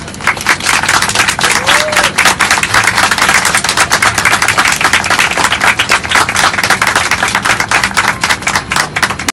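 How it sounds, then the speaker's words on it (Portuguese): A crowd gives dense, continuous applause, loud and steady throughout, with many overlapping hand claps forming a crisp, rapid patter and no clear talking on top. "Por isso, pedimos uma grande salva de palmas"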